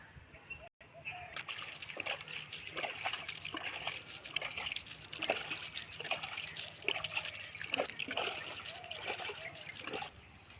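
Water is poured over freshly picked leafy greens (shak), giving continuous close splashing and trickling, with a voice speaking now and then.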